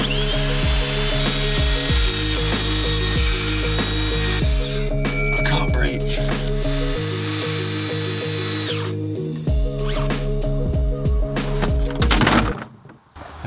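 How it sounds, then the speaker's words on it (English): A circular saw whines loudly through plywood in long, steady cuts, its motor pitch dipping under load and briefly stopping between passes, ending abruptly. "push this edge of the circular saw up to the line and then just push along it"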